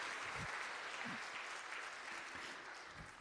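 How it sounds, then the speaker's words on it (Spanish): A church congregation claps for a woman named Dilma on her birthday during a Spanish-language Catholic Mass, with soft, fairly distant applause that stays even before slowly thinning out, plus a few low thumps. "Un fuerte aplauso para Dilma."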